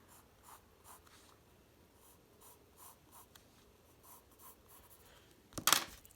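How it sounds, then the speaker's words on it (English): A pen or pencil draws on paper, giving soft repeated scratchy strokes that end in one louder, brief scrape up close. "you're going to draw a line down the middle."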